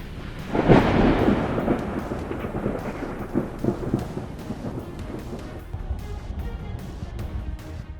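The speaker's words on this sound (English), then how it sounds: "A lightning strike tearing through the night sky, followed by a thunderous roar echoing all around." A heavy thunderclap bursts early and rolls off into a long, fading rumble over steady rain during a lightning storm near Tampa Bay, Florida.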